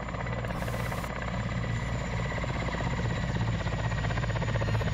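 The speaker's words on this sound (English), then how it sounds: "Tell our helicopter to pull off." A video game helicopter flies overhead, its rotor throbbing as a loud, steady, close drone that holds level and slightly swells throughout, with no talk over it.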